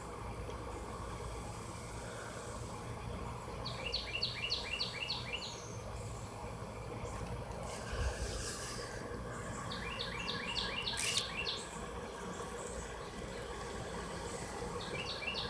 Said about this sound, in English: Oh man, I hear my little bird friends.